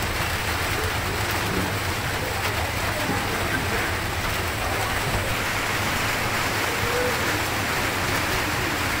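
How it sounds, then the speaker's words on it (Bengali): Light drizzle falls in a village setting, a soft, continuous hiss of fine drops at a steady level with no distinct impacts and no speech. "এই যে টিপ টিপ বৃষ্টি পড়তেছে আর কি"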